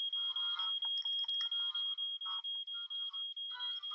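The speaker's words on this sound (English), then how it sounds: "the sound of your fire alarm" A smoke alarm sounds with a steady high pulsing beep in rapid, even repetition, faint and thin under some background clatter.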